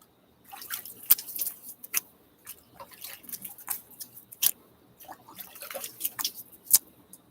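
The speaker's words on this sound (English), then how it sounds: "let's do some splashing of water" Water splashed by hand during a wet shave outdoors, a series of close, irregular splashes and drips with short pauses between them.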